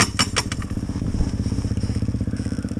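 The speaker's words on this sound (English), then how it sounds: "Back on the old two-stroke. TM250 Enduro." A 2001 TM 250 two-stroke enduro motorcycle engine idles steadily up close, its fast, even popping pulse broken by a few sharp blips of the throttle early on.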